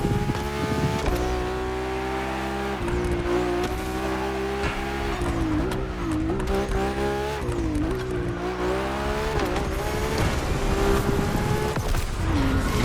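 Ferrari F80 supercar in The Crew Motorfest game, its engine droning loud and steady with rising and falling pitch through shifts, tires squealing and skidding through corners, no talk over it.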